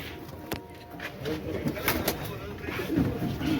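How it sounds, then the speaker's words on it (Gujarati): Ferozpuri pigeons coo softly in a loft, their low murmuring steady and continuous under a faint background hiss, close by and fairly quiet. "ફિરોજપુરી છે. ફિરોજપુરી કબૂતર"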